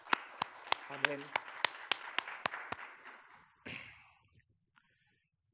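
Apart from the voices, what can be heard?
applause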